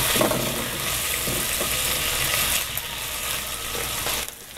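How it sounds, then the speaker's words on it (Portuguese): Bacon fries in a pan with a dense, steady sizzle and crackle, close and fairly loud throughout, with no voices over it. "Primeiro eu vou pré-fritar o bacon"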